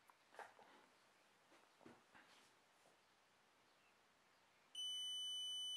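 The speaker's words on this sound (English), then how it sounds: "One long beep," A Xiaomi Yi action camera running XiMode 2.0 firmware gives one loud, continuous electronic beep as it reboots. The beep starts near the end of a quiet stretch that holds only faint handling taps.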